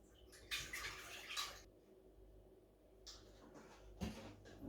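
Milk tipped from a container into a good-sized pan, two short splashing pours a moment apart with a quiet pause between, close but faint.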